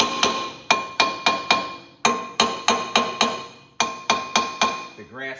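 A hammer taps on the screws of a Kohler KT17 engine on a Cub Cadet 782 tractor, making about fifteen sharp, ringing metallic strikes in quick bursts of three to five, close and loud with brief pauses between groups.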